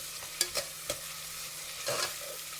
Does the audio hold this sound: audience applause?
no